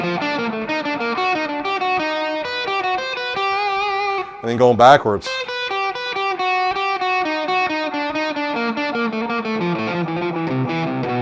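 Distorted electric guitar picking a repetitive fretboard finger-independence exercise, rapid even notes climbing and descending steadily, with a brief spoken interruption midway.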